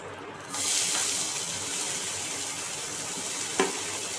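Onions drop into hot oil already used for frying, breaking into a loud, steady sizzle that keeps hissing evenly, with a brief clink near the end.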